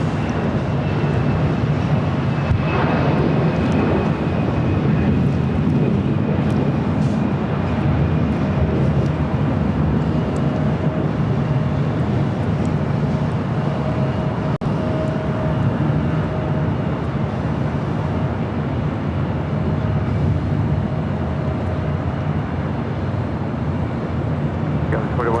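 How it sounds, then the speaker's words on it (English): A jet airliner rumbles and whines on the runway at LAX, a continuous, fairly loud engine drone with a steady tone, while a voice talks over it. "ready to go here on the north side of 24 left is Delta Connection SkyWest Flight 4148 headed to Boise, Idaho, E175"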